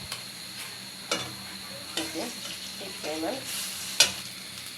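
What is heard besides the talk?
onion, tomato, potato, liver and spices sautéing in pan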